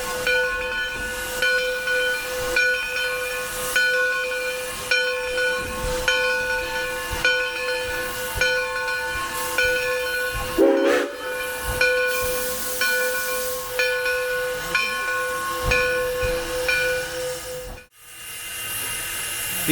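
Black River and Western steam locomotive number 60 hisses loudly at Flemington, steady steam venting with rhythmic pulses and whistle-like tones, cutting off sharply near the end.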